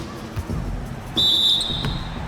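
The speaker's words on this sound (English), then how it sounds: "the officials whistle a foul on the shot" A referee's whistle shrills for a foul in the basketball video game NBA 2K17, one steady blast of nearly a second that stands out over crowd noise and bouncing balls.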